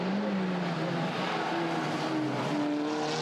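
Race cars braking hard and cornering into Druids at Oulton Park, heard as a steady roar of engines with droning tones sliding in pitch, dense and continuous, somewhat distant.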